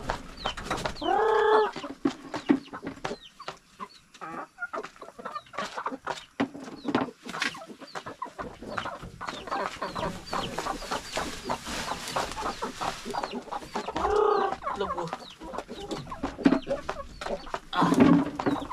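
Rhode Island Red hens cluck and cackle in a farmyard, with bursts of clucking near the start and again later over a busy background of scratching and rustling.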